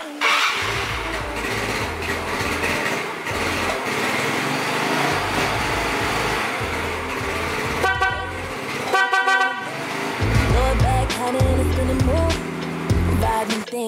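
Loud car horn wired through a newly installed relay, tested in a few blasts of varying length with pauses between, over an idling engine and background music.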